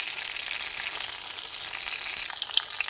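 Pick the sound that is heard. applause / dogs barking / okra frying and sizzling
okra frying and sizzling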